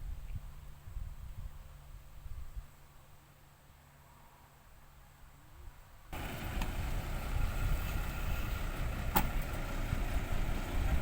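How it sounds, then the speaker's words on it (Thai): A New Holland farm tractor's engine runs at a municipal dirt-dumping event in Sa Khut, Chumphon Buri, Surin: a steady rumbling drone that swells suddenly louder and rougher partway through and stays close and strong. "จากกระจกเงา ครับ เจ้ารถไถนิวฮอลแลนด์"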